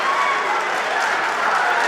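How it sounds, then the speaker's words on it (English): Crowd at a live MMA cage fight roaring and applauding in one dense, loud, continuous wash of noise lasting just a couple of seconds, with no distinct voices standing out. "And the crowd goes wild"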